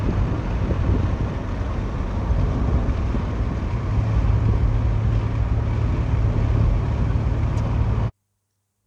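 An LS V8-swapped Porsche 944 under acceleration, a deep continuous engine roar heard from inside the car with wind and road rumble, steady for about eight seconds before cutting off abruptly.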